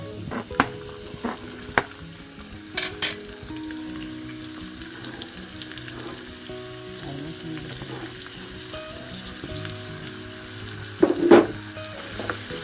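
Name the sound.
garlic and onion frying in pan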